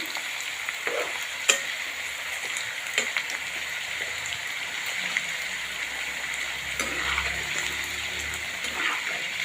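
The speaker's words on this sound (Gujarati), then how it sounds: "પછી વચ્ચે આવી રીતે હલાવતું રહેવાનું જેથી કરીને એક જગ્યાએ લાલ નાખી જતી લોડી" Ivy gourd curry being stirred as it fries in a pan, with a steady close sizzle and occasional scraping clicks of the spoon, no voices.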